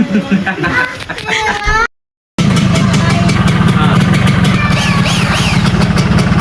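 Close motorcycle engine idles steadily with a low, even rumble; a voice speaks over the start, then a brief silence before the idling continues.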